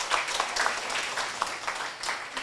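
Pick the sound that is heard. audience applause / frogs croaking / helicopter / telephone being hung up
audience applause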